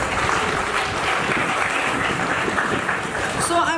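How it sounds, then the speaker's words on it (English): An audience applauds at an arts festival event in Mumbai for a music video project team, a steady round of clapping that is fairly loud and continuous, with voices faintly heard near the end. "Can we applaud? Quick round."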